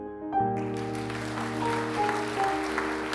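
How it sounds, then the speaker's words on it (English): Scientists fill an auditorium and applaud, a dense, steady wash of clapping that sustains throughout over a held musical drone. "Rachel cried tears of joy seeing the auditorium flocked with scientists applauding her for her work in the field"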